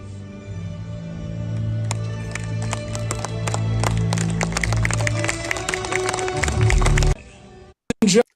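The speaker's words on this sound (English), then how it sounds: "just everyone reluctantly clapping to a sign" A stadium crowd at Dodger Stadium claps sparsely and half-heartedly for the unveiling of the new Uniqlo Field signage, over a steady droning hum, before the sound cuts off abruptly.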